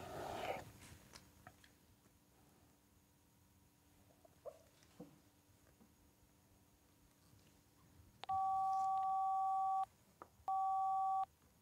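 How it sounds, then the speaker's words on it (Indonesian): A quiet room with faint clicks and rustles gives way to a phone call tone: two long, steady electronic beeps near the end, separated by a short gap, loud and alone. "Coba telepon Pak Laksono."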